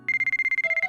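A mobile phone ringtone in the White Album 2 visual novel rings as a bright, rapidly pulsing electronic tone, clear and close, with a second tone joining near the end.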